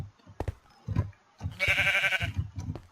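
Sheep bleating in the Minecraft video game, a few short nasal bleats with one longer wavering bleat in the middle, close and clear against quiet background sounds.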